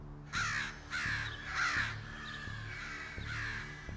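Several crows caw harshly in repeated bursts, scolding a person wearing a mask; loud, close calls come in four or five rough blasts over a steady low hum.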